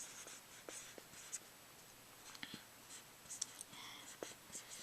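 A pen or pencil writes out a geometry proof with soft scratchy strokes in scattered short bursts over a faint hiss, quiet and close, with no talk.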